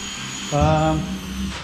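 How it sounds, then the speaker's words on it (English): Power drill boring holes to mount a saddlebag bracket on a 2022 Harley-Davidson Street Bob 114, a short whirring burst that rises in pitch and fades after about a second over a steady background hum. "Now we're drilling holes."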